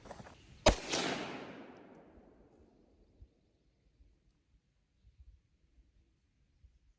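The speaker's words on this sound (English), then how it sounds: "I pulled that first shot, I think." A single loud pistol shot from a Ruger 57 fitted with a threaded barrel and thread adapter, a sharp crack with a long decaying ring, followed by faint scattered handling noises in a quiet outdoor setting.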